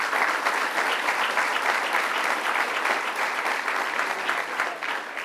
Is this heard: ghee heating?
no